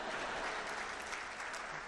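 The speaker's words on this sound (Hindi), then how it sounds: "अब आपकी तालियां उठेंगी।" An audience at a kavi sammelan poetry recital in Indore bursts into dense, sustained applause, a crowd of many hands clapping steadily and evenly throughout the short moment, fairly distant and without voices.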